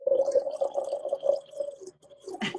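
Water pouring steadily into a container to make sun tea, a close bubbling gurgle that fades briefly near the end before a short splash.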